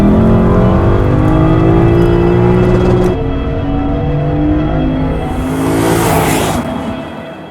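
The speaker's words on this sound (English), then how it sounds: "Today you're looking at the Lexus IS500, and as you can hear, it sounds absolutely magnificent." A Lexus IS500 with a naturally aspirated V8 roars loudly up close, its engine note climbing through a rev, dropping back, then swelling again with a hissy whoosh before easing off.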